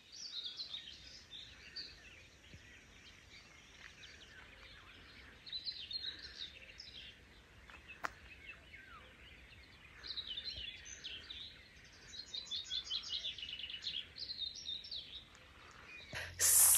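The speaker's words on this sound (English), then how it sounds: "Birds are singing" Several birds sing and chirp through a quiet early summer dawn in a Latvian countryside village, the calls fairly distant and layered over a soft steady background, with busier bursts of song toward the end.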